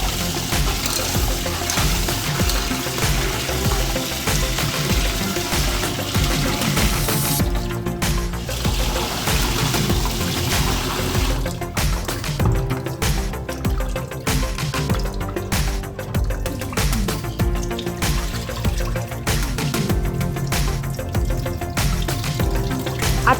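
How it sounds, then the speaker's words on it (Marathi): Fresh mutton is rinsed by hand in a vessel of water, with steady sloshing, splashing and dripping close up and no voices. "पहिले आपण मटण 2 ते 3 पाण्याने स्वच्छ धुवून साईडला ठेवून घेऊया"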